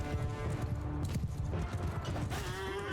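Horse hooves clip-clop in a Mount & Blade II: Bannerlord cavalry battle, with a steady, busy patter of hoofbeats running through a dense, loud wash of battlefield noise.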